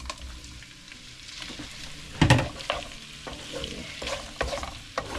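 Prawns and garlic frying in a pan, with steady sizzling and a few louder stirring scrapes and knocks, one sharp clatter near the middle, close by.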